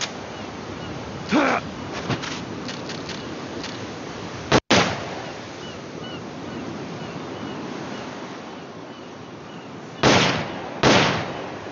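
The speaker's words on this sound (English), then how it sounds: "The M16 is a standard assault rifle, capable of rapid fire." M16 assault rifle fire from the PSP game Metal Gear Solid Peace Walker comes as one sharp, loud shot midway. Two short, noisy bursts follow later over steady ambient game noise.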